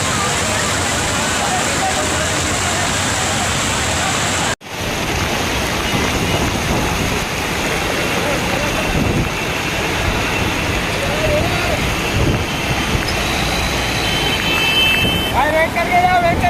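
Heavy rain pours onto flooded streets, giving a loud, dense, unbroken roar of falling water that cuts out for an instant and then resumes just as strong, with traffic-like rumble mixed in.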